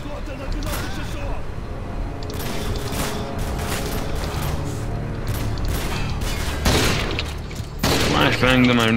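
Gunfire in Call of Duty Modern Warfare 2 Special Ops, with rapid, bursty automatic shots and clanking weapon mechanisms. Loud bursts stack up, and a player talks over the game sounds throughout.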